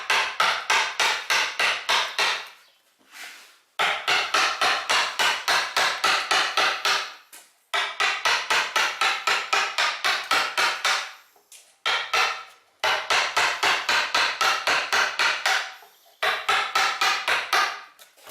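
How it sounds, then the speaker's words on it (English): A number 2 chisel gouge is tapped through wood while roughing out a carved scallop shell. Quick, even knocks come in bursts of about a dozen, with short pauses between the bursts, close and fairly loud. "I'm using a number 2 chisel, gouge. Reasonable size just to rough it out."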